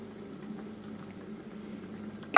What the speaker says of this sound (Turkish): Bakın tıkır tıkır kaynıyor.